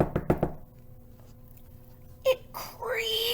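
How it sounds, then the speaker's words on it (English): Three quick knocks rap on a door in a told children's story about two travelers, close and sharp, followed by a brief creak-like sound and a rising whine. "They knocked boldly on the door."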